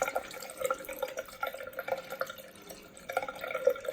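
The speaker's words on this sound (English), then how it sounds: "At the moment, this is what we've got from the hot tap." Hot water runs weakly from a bathroom tap, a faint, uneven trickle with splashing and dripping into a basin, with no voices.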